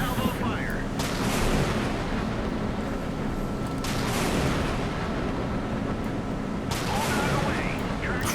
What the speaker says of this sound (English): It's a lot of missiles.